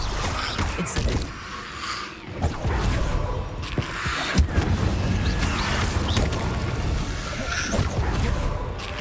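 A fire spell cast in the Hogwarts Legacy video game bursts out amid dense game sound, with a sharp whooshing impact near the middle over continuous rumbling combat effects and music.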